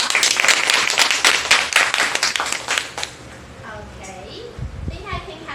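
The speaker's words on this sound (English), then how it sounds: "Please give her again a big round of applause." An audience bursts into loud, dense clapping for a young presenter named Alyssa at a youth event, lasting about three seconds before fading out as a voice starts talking.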